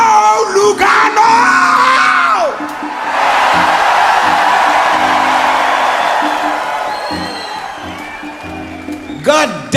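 A big concert crowd in Lugano screams and yells loudly for several seconds, a sustained roar of many voices between stretches of someone shouting from the stage.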